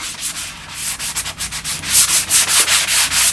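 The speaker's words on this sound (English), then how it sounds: "I would like to use a sanding sponge, a light grit sanding sponge" A light-grit sanding sponge rubs back and forth over a metal scuba tank with water, in quick, rhythmic strokes, loud and close, with a gritty scraping texture and no voices.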